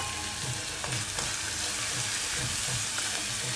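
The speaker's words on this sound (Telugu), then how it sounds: "మంచిగా వేయించుకోవాలన్నీ" Ingredients frying with turmeric in a pan give off a steady, dense sizzle, with occasional scrapes of stirring heard close up and no one speaking.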